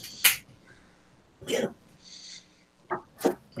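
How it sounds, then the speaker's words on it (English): Dogs barking, played back through a computer's speakers: a few short, separated bursts spread across the moment, thin and somewhat distant, with quiet gaps between them. "You heard the dogs barking on my computer."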